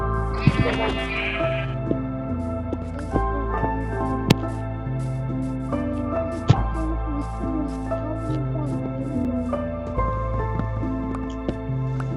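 Sheep bleating in a block-building video game, a few short bleats near the start set against steady stepped background game music that continues throughout.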